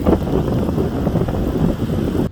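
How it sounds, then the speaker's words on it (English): Steady wind buffeting a microphone outdoors while mudlarking on choppy water as rain begins, a continuous low roar with gusting rumble; no voices. "it's getting windy and rainy"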